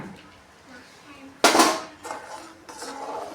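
A spoon stirs cornflour and milk into mango pudding in a cooking pot, giving soft scraping with one sharp metallic clang and a few lighter clinks nearby.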